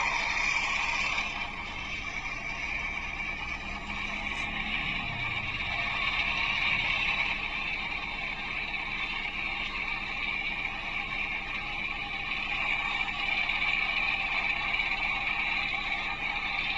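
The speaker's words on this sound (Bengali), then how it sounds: "ওইদিকে ওই পাশে আমাদের ধানগুলো কাটতেছি নতুন মেশিন দিয়ে" A new harvesting machine cuts a rice paddy in a field, a steady mechanical drone with a clattering, ratchet-like grind that holds a constant level throughout, with no voices.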